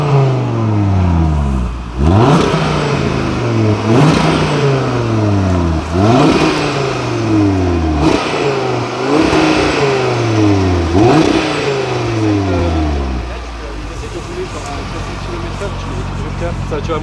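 An Audi RS3 engine revs hard about six times in a row, each rising sharply in pitch and dropping back, before settling into a lower steady idle; loud and close.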